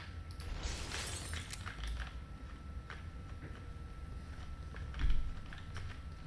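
A window shatters early in SUPERHOT with a brief crash of glass, then quiet game ambience with scattered light clicks and a soft thump, all fairly faint.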